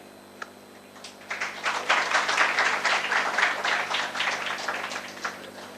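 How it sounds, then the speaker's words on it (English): A university lecture audience bursts into applause at the end of a talk: after a lone tap, clapping swells within a second into a full hall ovation, holds steadily, then thins out toward the close. "Does this clapping mean the end of story?"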